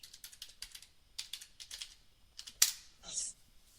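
Someone types a password on a computer keyboard for a Ventoy USB drive, with sharp clustered key clicks in short bursts, one louder snap near the end and a faint voice under it.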